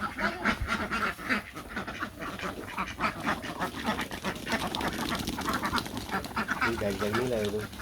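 Ducks quack loudly and repeatedly in a village yard as people chase and herd them, with excited voices talking and shouting over the birds throughout.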